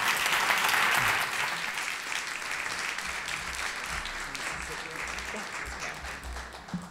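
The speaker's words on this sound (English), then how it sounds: "giving a big round of applause to this panel and to all of our speakers today" Applause from the audience for a panel on housing affordability at the close of a policy session, loud and dense at first, then easing into steadier, lighter clapping that carries on to the end.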